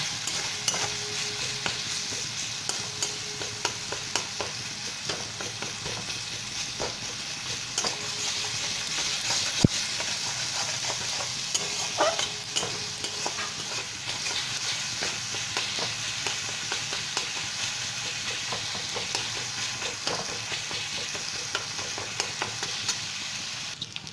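Papaya cooking in an oiled pan with cumin and coriander powder, stirred continuously: a constant sizzle under frequent light scraping and tapping of the spatula for the whole stretch, with no one speaking.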